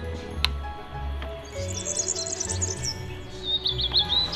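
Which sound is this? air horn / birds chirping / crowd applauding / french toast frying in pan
birds chirping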